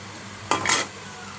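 A metal lid set onto a cooking pot of simmering aubergine, potato, tomato and fish curry, one short clatter with a brief ringing scrape, close and fairly quiet against a faint kitchen background.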